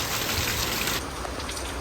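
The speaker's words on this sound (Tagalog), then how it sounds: "Ang lakas ng agos. Mas lalakas pa po ang ulan." Heavy rain and a strong rushing current, a dense continuous hiss and wash that eases slightly partway through, with no one speaking.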